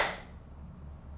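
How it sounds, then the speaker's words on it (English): A single sharp hand clap made to sync sound before an interview, one quick crack at the very start that decays into a quiet room. "do a clap, just to sync the sound later"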